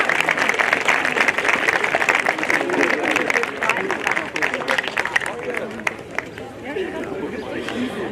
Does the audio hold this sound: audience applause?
yes